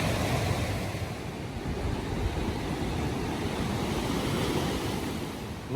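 Walker Creek rushes steadily along the Pacific Crest Trail near Yosemite, a constant broadband wash of flowing water at moderate distance with no voices.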